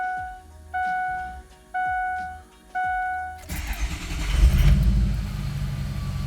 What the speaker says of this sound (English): let's go ahead and start her up. Go ahead and let her turn over.